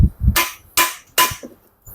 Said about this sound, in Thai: ใช้ค้อนนะครับค้อนเคาะเลยนะครับ เคาะตรงแม่เหล็กจานไฟไปเลยนะครับ